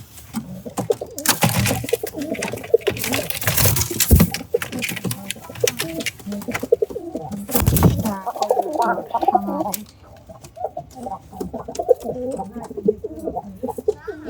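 Several pigeons coo continuously, overlapping in low throaty calls, with bursts of wing flapping and rustling close by.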